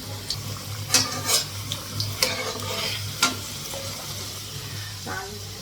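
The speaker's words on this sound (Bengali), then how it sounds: "আলুটা হচ্ছে ভাজার জন্য কড়াই বসে নিয়েছি" Potatoes fry in a kadai (wok), with intermittent scraping stirs and a light sizzle over a steady low hum from the kitchen.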